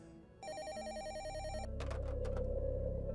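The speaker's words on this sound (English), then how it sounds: "My phone rang and I picked it up." A telephone bell rings in a steady repeating trill, loud and close, then gives way to a lower continuous hum.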